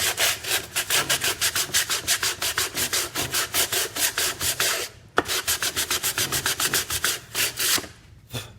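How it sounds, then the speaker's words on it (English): A homemade hand sander is pushed back and forth over a piece of wood in rapid, rhythmic scraping strokes. The sanding is loud and close, pauses briefly midway, then resumes before trailing off, with no speech. "Smoothing out that whole piece of wood. Look at that dust coming off of it."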